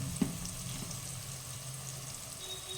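Ginger frying in hot oil for tempering a village country chicken curry gives a faint, steady sizzle with a small clink near the start and soft stirring.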